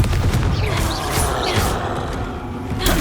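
Spell blasts from Hogwarts Legacy combat boom and crackle in quick succession, loud fiery bursts layered over game noise and music, with a punchy hit at the start and another at the end.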